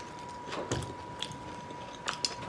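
Shrimp nachos with sweet spicy chili Doritos being eaten, giving a few crunchy bites and chewing sounds, close and fairly quiet with no talking.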